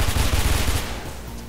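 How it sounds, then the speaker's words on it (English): Incoming automatic gunfire in the parkour game Mirror's Edge, a quick rattling burst of shots aimed at the player, loud for under a second before tailing off into a rumbling background. "Somebody shooting at me"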